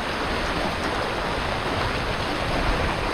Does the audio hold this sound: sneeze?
no